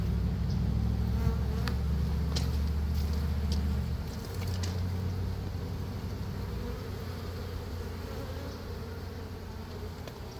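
Honey bees buzz steadily and loudly around an open hive during a frame inspection, a dense continuous drone close by that eases slightly partway through, with no talking.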